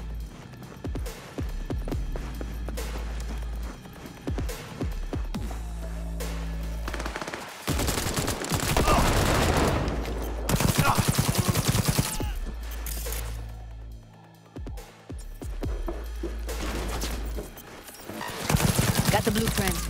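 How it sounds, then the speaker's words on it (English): Gunfire in the video game Cyberpunk 2077 on PS5, with bursts of rapid shots and heavy impacts repeating through a loud, dense game soundscape of music and effects. "Heard shots."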